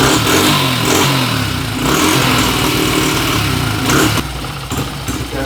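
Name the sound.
Honda CF80R dirt bike engine starting with choke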